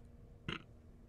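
A single short burp during a horror game session, one abrupt low-and-mid burst lasting about a tenth of a second, fairly close against a quiet background.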